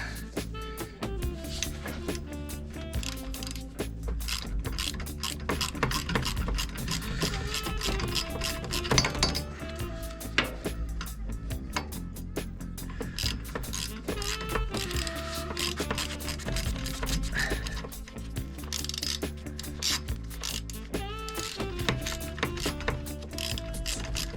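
A ratchet wrench clicks and grinds steadily, undoing bolts to replace the reeds on a VForce4 reed valve, with mechanical ratcheting and scraping mixed under a constant tonal hum.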